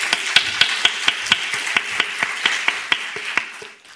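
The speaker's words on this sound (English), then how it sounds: "you should give all yourself a big round of applause" At a forum gathering, the audience applauds with sparse, rhythmic hand claps about three or four per second. The claps are fairly close and distinct rather than a full ovation, and they trail off after about three and a half seconds.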